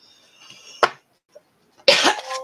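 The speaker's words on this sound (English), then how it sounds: "Sorry about coughing." A person coughs close up with a dry, dusty throat: one sharp cough, a pause, then a harsher, longer coughing burst.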